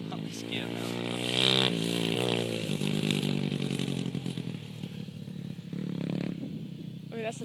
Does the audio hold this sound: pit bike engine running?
yes